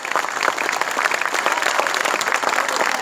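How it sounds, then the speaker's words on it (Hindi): Steady, dense applause from an audience at a kavi sammelan poetry gathering in Lucknow, filling the moment with loud, continuous clapping and no speech over it. "जोरदार तालियां बजाइए"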